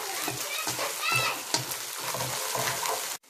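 Cinnamon, ginger-garlic paste and cumin fry for chicken biryani with a dense, close sizzle and rhythmic stirring scrapes, then cut off abruptly.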